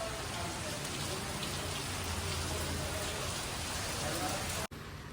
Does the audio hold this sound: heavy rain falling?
yes